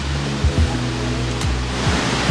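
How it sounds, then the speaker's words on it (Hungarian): A waterfall roars nearby, a steady, loud broadband rush that fills the clip, with a few low thumps and bumps near the microphone breaking through it. "látszik mögötted a vízesés is"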